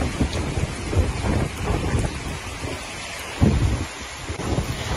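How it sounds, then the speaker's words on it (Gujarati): Heavy downpour in Dahod district, a dense, roaring wash of rain with gusty wind buffeting the microphone and a faint rumble, continuous and loud with no voices. "દાહોદમાં જિલ્લામાં મુશળધાર વરસાદ વરસ્યો"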